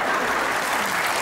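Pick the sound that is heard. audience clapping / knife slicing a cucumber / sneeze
audience clapping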